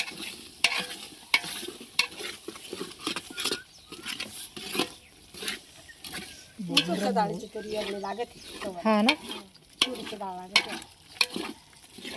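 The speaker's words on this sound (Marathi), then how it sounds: "शेंगदाण्यानंतर आता म्हैसूरची डाळ तुरीची टाकतात पण म्हैसूरची ॲडजस्ट केली आहे" Masoor lentils are added to peanuts frying in a large pot and stirred, giving soft scraping stirs and faint sizzling, with a voice talking quietly in the middle.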